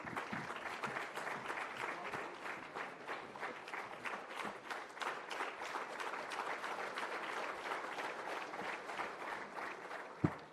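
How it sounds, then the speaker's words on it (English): A hall audience applauds to welcome the Chief Minister at a public event, with sustained, even clapping from many people throughout and a single sharper bump near the end. "A round of applause, please,"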